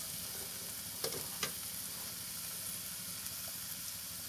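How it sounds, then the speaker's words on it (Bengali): Taro leaves and potatoes are stirred in a hot pan and keep up a steady, close sizzle. A couple of soft spatula scrapes stand out early on. "আস্তে আস্তে নেড়ে চেড়ে এইভাবে হতে থাকবে।"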